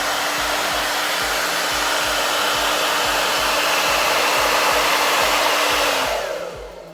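A Dyson hair dryer runs at close range with a loud, steady airy whoosh and a faint tonal whine, holding constant for about six seconds before switching off and fading out.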